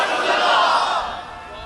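A large crowd at a religious gathering roars out the slogan Labbaik together, a loud, sustained massed shout of many voices.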